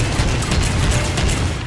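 Rapid tapped gunfire from a support weapon in Ghost Recon Phantoms, a fast stream of loud, close shots blurring into a steady rattling roar without pauses.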